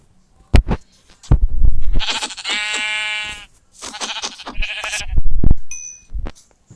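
Several sheep bleat close by, loud wavering cries one after another, with a brief ding and some knocks between calls.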